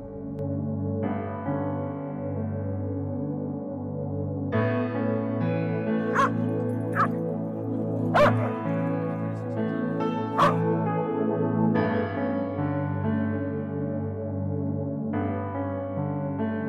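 Dogs bark and yip at a dog park in Newtown Park, Johns Creek, Georgia, with a few sharp, fairly close barks standing out over a steady, dense layer of background sound.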